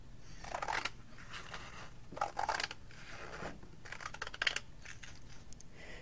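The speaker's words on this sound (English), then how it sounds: "Now I'm going to unfold these sheets of paper and we are going to cut along this seam." Scissors snip through several stacked sheets of paper along a seam, in three separate bursts of sharp crisp cutting with short pauses between, close and alone with no talk.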